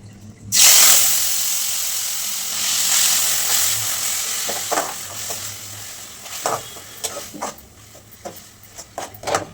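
Chana masala gravy frying in hot oil, a loud sudden sizzle bursting in near the start and settling into a steady hiss, broken by scraping stirs and clinks toward the end; no voices.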